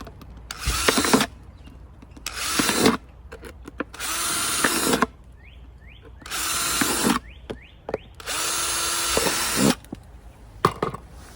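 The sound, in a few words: drill making holes in hard clear plastic bottle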